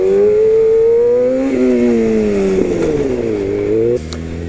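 A stunt motorcycle is clutched up into a wheelie and dropped back, the engine revving and climbing in pitch, then wavering and settling before cutting abruptly to a lower idle, close and loud.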